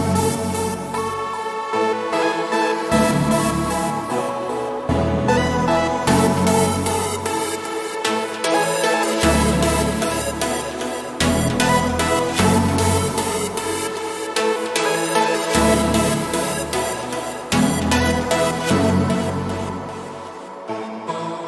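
Full synth melody of a digicore beat playing continuously and loud, with layered bright synths over a pulsing low bass that shifts in regular blocks every couple of seconds, no voices.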